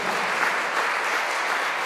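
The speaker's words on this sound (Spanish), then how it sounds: "Si quieren le damos un aplauso a la palabra del Señor." A church congregation at a Spanish-language praise service applauds after a scripture reading, giving a dense, even wash of clapping that holds steady for the whole moment with no voices over it.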